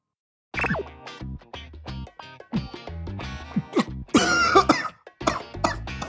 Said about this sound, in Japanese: あー、むせちまったよ。